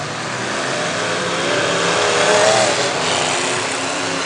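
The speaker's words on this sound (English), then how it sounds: "That car runs good. This sounds very good." A race car engine on a dirt track revs and accelerates, a loud continuous roar that swells midway and holds steady, with no talk over it.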